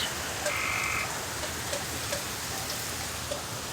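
Steady rain hissing down during a storm as it begins to ease, with frogs croaking faintly in the background at irregular intervals.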